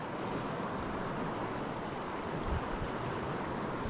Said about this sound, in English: Lots of breaking waves.